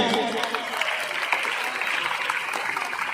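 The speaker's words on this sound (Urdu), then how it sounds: "زور سے تالیاں بجائیں ذرا ذوالفقار صاحب کے لیے" Steady applause from an audience at a school farewell ceremony welcoming a teacher to the stage, dense continuous clapping that holds evenly throughout.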